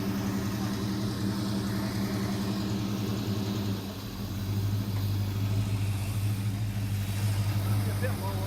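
A 1968 Dodge Charger R/T with an Edelbrock carburetor idles in gear at a steady, close rumble. The engine note deepens and strengthens slightly partway through, and a person's voice is mixed in.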